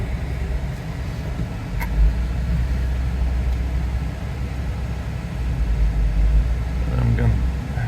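Jeep engine idling and running as it rolls forward out to the sidewalk, a steady low rumble close by with some brief talk over it.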